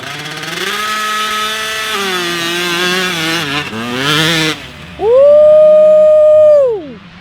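Dirt bike engine during a dirt start, a buzzing two-stroke-style idle with wavering pitch that climbs and dips as the clutch is feathered, then a sharp loud rev sweeping up, holding, and falling away, close by.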